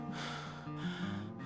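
A child breathes quickly and deeply after exercise, heavy gasping inhales and exhales close to the ear, faint and without talk.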